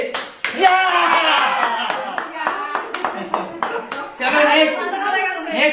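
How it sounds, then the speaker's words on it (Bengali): An audience claps loudly in several bursts at a bottle-flip party game, the applause close and lively with voices talking and cheering over it. "কাকুর জন্য জোরে একটা হাততালি হবে সবার তরফ থেকে"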